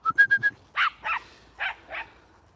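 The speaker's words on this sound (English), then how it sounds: "You hear how Juno's bark has got a little bit more squealy?" A frustrated dog on an 8-dog walk in Scotland gives four quick, high, squealy yips followed by four longer, lower barks, close and loud with short gaps between them.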